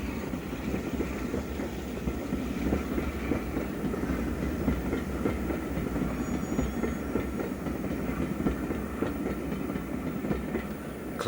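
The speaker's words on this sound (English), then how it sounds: "another warship enters the station with a stopping train and then pulls away towards Bristol" A diesel train pulling away from a station rumbles with a deep, steady engine drone and low rolling rhythm, moderately close, continuing without pause.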